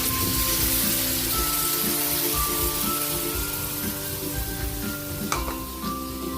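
Sauce poured into a hot pan of squid adobo, a loud dense sizzle with stirring scrapes and crackle over a low humming background, close up and continuous, with no voices.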